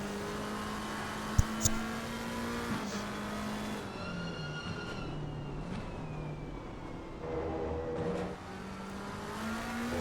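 A BMW M4 GT3 race car in the Assetto Corsa Competizione sim, heard from onboard as its engine drones steadily, pitch dropping and shifting down under late heavy braking before climbing again, continuous and loud throughout.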